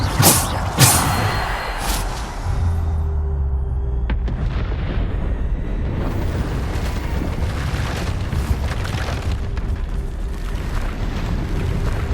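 A Bombarda spell explodes in Hogwarts Legacy with a loud, deep boom that rumbles on as a dense, continuous blast of battle noise over about twelve seconds.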